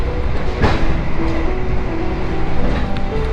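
A Sembrani passenger train runs between Jakarta and Surabaya with a steady, loud rumble of wheels and carriage noise, a sharp clack near the start and no talk over it.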